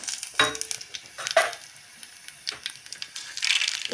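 Cumin and mustard seeds fry in hot oil for a cabbage tomato curry, crackling with sharp pops and scrapes over a faint sizzle.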